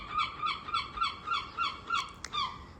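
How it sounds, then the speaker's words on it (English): Seagulls call from a garden in a steady series of about ten loud, evenly spaced cries, each a short nasal squawk, with no talking. "There's the seagulls."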